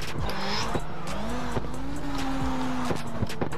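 A Mazda RX7 drifts in the CarX video game, its engine note rising and falling under sustained tire squeal through a braked turn, loud and continuous with no talk.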